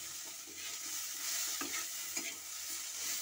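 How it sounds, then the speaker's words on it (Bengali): Chopped tomato frying with turmeric in a pan for a Bengali okra and small fish dish, a faint continuous sizzle with light stirring scrapes, no voices. "আর টমেটো কুচিটাও একবারে দিয়ে দিচ্ছি, ভালো করে ভেজে নেব।"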